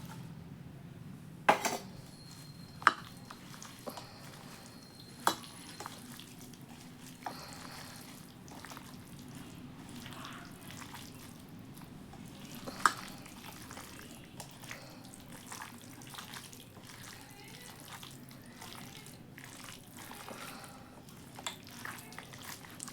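Chicken dum biryani ingredients with coriander, green chillies and mint mixed in a pot, heard as faint, continuous rustling and scraping with occasional metallic clinks of a utensil against the pot.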